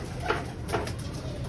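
Racing pigeons returning from a training flight coo softly, two brief low coos about half a second apart over steady outdoor background noise, with no talk.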